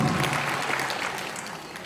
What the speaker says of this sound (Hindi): मैं चाहूंगा अपने लिए एक जोरदार तालियां बजाइएगा।